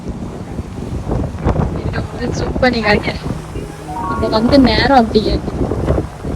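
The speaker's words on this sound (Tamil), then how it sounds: "எல்லாமே போயிட்டு அந்த மழை வர்றதுனால இந்த காத்து பயங்கரமா வருது." Strong wind blows by the sea in Mumbai ahead of rain, buffeting the microphone in loud gusts throughout while people talk over it.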